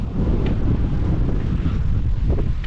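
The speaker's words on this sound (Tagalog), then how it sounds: "malamig ang hangin ngayong gabing to" Strong cold night wind at a bus stop in New Zealand buffets the microphone in a continuous low roaring rumble, loud and unbroken throughout, with no talking.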